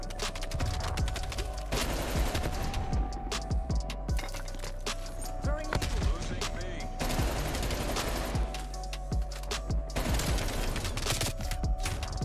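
Sentry gun firing in Black Ops Cold War, with rapid automatic bursts repeating across the whole stretch over steady game background noise, fairly close and loud.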